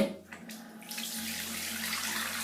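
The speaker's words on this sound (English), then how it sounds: "Now I'm going to fill my sink with some hot water." Hot water runs from a tap into a sink being filled for washing dolls, a steady close rushing splash that starts about a second in and continues unbroken, with no talking.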